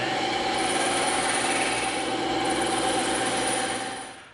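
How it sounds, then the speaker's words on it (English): A bandsaw cutting a piece of EVA foam, its motor whirring steadily with a high whine across the cut before winding down at the end. "we're gonna take this over to the bandsaw and we're gonna cut this piece out"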